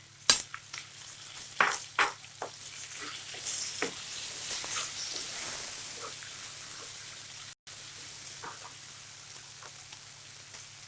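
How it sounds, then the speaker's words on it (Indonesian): Leaves sautéed in a pan for gulai rebung, a steady close sizzle with scraping stirs and a few spatula knocks against the pan, no voices. "Kita tumis sampai harum ya."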